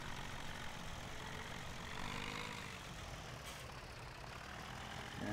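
A tractor engine in Farming Simulator 2017 on the Thornton farm map, heard as a steady, loud diesel drone with a low rumble, continuous throughout with no talking.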